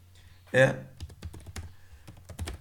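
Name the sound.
typing on a computer keyboard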